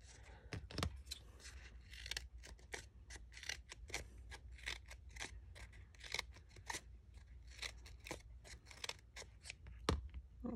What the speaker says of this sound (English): So I'm going to cut into all 5 at once and be brave.